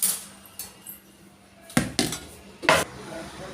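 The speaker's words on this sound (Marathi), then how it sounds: "त्याला उलटणीने काढून टाकते." A metal spatula scrapes and knocks against a pan while lifting steamed rice papad dough off a cloth, giving a few sharp clattering scrapes spaced across a quiet background.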